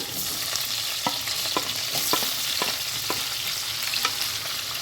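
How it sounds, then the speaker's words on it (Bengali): Chopped green chillies frying in white oil, a continuous close sizzle punctuated by regular spatula stirring knocks, with no voices. "আজকের রান্নাটা পুরোটাই সাদা তেলে হবে তো আমি এখানে দিয়ে দেবো কুচিয়ে রাখা কাঁচা লঙ্কা"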